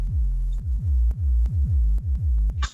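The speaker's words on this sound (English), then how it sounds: "listen to the actual sub bass on its own, which sounds like this. It's been bounced down. It was created in Serum." Clean 808 sub bass sine made in Serum and processed with RC20 Retro, a run of deep booming notes in a steady pulsing rhythm with slight clicks, heard on its own.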